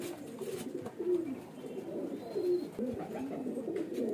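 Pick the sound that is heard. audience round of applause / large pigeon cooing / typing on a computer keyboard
large pigeon cooing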